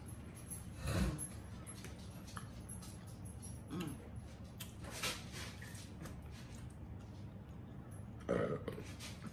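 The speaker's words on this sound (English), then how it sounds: "All that belching and going on." Low, faint burps come a few times during a Cajun cheddar bratwurst mukbang, short guttural belches spaced apart over a quiet room background.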